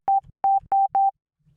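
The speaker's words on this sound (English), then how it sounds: "So it's a higher pitched sine wave." A high-pitched sine tone played through the Sausage Fattener hard-clipper plugin sounds as four short, clean beeps in an even rhythm, loud and close, with silence between them.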